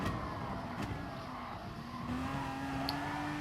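Race car braking and engine noise at Monza in a racing video game, a steady continuous drone with a rising engine pitch and light tire sound, moderately loud throughout.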